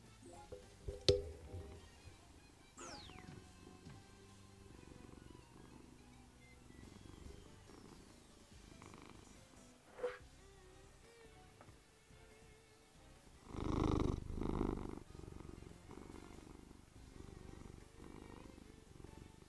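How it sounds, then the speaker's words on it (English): A pet cat purrs close to the microphone in a steady low rumble, rubbing against it to make soft scraping thumps and a louder, broader rustle near the end. "That noise you're hearing is my cat rubbing up against the microphone."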